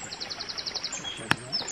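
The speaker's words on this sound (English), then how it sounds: "I don't know whether you can hear all the birds singing or not." Faint bird chirps repeat rapidly in a high, quick series over soft outdoor background in Tideswell Dale, with a sharp click partway through.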